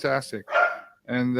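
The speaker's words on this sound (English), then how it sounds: "Sorry about the dog, by the way." A dog barks a couple of times close by, sharp yips mixed in with a voice during a live talk show.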